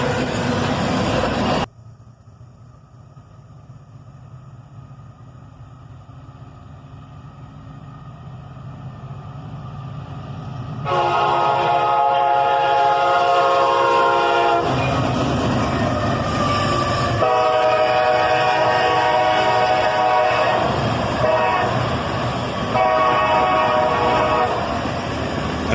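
EMD SD-43 rebuild locomotive leading a freight train, heard first as a brief loud blast, then a quieter rumbling approach that swells into loud horn blasts and steady rolling rail noise as it passes close by.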